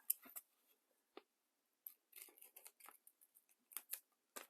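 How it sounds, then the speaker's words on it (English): Scissors snip through junk mail envelope paper in quick, quiet bursts of crisp cuts, with short pauses between, close up and without talk. "I'm going to just do this with my scissors"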